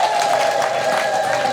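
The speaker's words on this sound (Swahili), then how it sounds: "Tumpigie Mungu makofi" A church congregation claps together during a service in a dense, steady wash of applause that is loud and close, with faint crowd voices mixed in, lasting the whole short moment.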